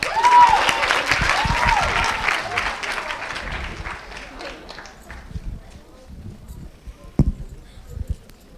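Audience applause for a kids' Republic Day cultural program at a Hindu mandir in Parsippany, loud at first and fading over several seconds into scattered claps and crowd murmur, with a sharp knock near the end.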